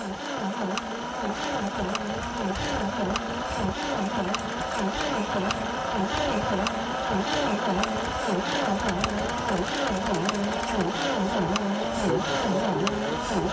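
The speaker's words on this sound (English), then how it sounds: "That battery sure ain't turning it very good." A 1940 Chevy truck engine cranks slowly and laboriously on a weak battery, a steady rhythmic churning starter groan that continues throughout with voices talking over it.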